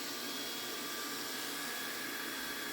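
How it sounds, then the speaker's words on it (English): A Scotch-Brite wheel polishes a Damascus steel knife part, making a continuous, even whooshing whine that holds steady at close range with no talk. "Using the Scotch-Brite wheel, we're going to really polish it."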